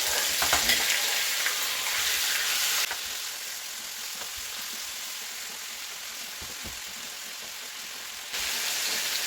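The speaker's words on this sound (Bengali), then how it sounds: "আমি এটাকে এখন একটু ঘিয়ের মধ্যে একটু হালকা করে একটু সাঁতলে নিব" Salted chicken pieces for biryani frying lightly in ghee, a bright steady sizzle that loudens at the start, drops to a quieter hiss for several seconds, then swells again, with a few stirring clicks and no speech.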